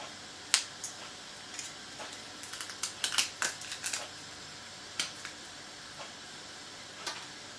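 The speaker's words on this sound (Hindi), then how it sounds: "आपको इसका क्रिस्पीनेस भी सुना देते हैं कि आपको महसूस हो कि कितना क्रिस्पी है ये।" A handful of sharp, crisp cracks and snaps as homemade nachos are broken, clustered in a quick burst and then a few single ones, up close.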